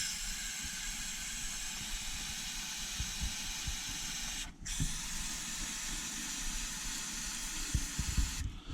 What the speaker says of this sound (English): This is not WD-40 or something, it's brake cleaner